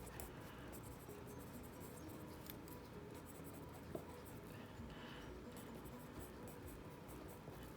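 A pen scratches across paper while entries are filled into a budget planner, a faint, close, continuous scribbling with small taps and strokes throughout.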